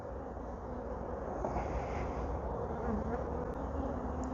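Honey bees buzz steadily and closely throughout a summer beehive inspection, a dense continuous hum with no talk over it.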